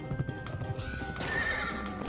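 A horse in the Pumpkin Jack video game neighs loudly over steady galloping hoofbeats, with a swampy game ambience behind, close and clear with no talk.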